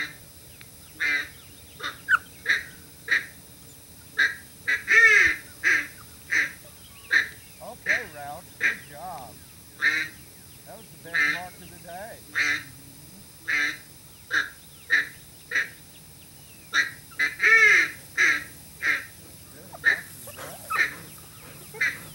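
A Rowdy duck call by Pirate blown to imitate a duck, giving a long run of about twenty rhythmic quacks and chuckles, some doubled or drawn out, loud and close with nothing else heard.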